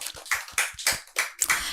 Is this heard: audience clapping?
yes